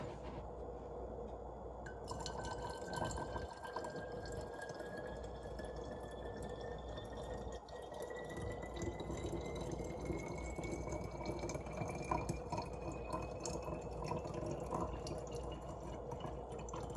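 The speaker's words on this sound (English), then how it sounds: "And then I'm going to pour it all in" Liquid is poured into a spray bottle, giving a quiet, steady trickle with a slowly rising fill tone as the bottle fills, heard alone with no talking.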